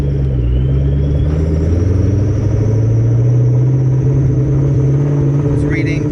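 Supercharged Ford Mustang engine held steady at 2,000 RPM in first gear, a loud, continuous low rumble with a throbbing drone that hardly changes over several seconds, with muffled talk mixed in.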